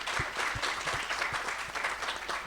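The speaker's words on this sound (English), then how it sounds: "I think that deserves a big round of applause." Audience applause during a panel discussion at the Enactus national competition, a fairly quiet, steady patter of clapping with a few sharper individual claps.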